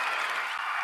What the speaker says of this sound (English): you can give her a round of applause as well